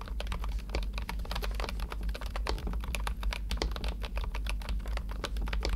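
A mechanical keyboard with linear switches typed on up close, giving a steady stream of quick, soft, evenly paced keystrokes over a low hum.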